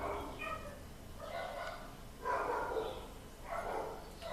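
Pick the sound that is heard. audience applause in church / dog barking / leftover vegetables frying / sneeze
dog barking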